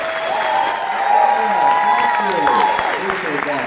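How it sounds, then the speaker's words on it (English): An audience claps for a doctor at a talk, a steady broad wash of applause while a voice speaks over it. "Give him a big round of applause, Dr. Horst"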